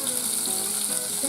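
Garlic sizzles in hot oil with cumin for a Rajasthani panchmel dal tadka, a steady, close, moderately loud frying hiss with no talking.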